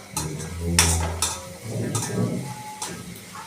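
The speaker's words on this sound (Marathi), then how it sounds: "कांदा टाकले मग त्याला लालसर होईपर्यंत भाजून घ्यायचंय" Chopped onions fry in a pan until reddish, with scraping and stirring strokes of a spatula over a soft sizzle, plus a few light clinks of utensils against the pan.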